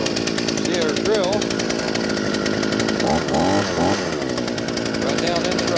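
A Harbor Freight 52cc two-cycle gas powered auger runs continuously with a loud, buzzing engine drone, close by, while a voice talks over it.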